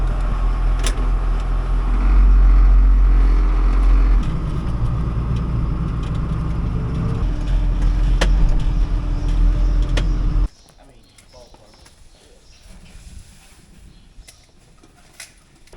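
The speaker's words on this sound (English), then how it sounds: "We'll take the feed tractor over to the new silo." A farm feed tractor drives steadily toward a new silo, its engine rumbling loud and continuous before dropping abruptly to a quieter idle with faint background sounds.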